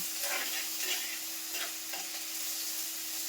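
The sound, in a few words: onions sautéing and stirring in pan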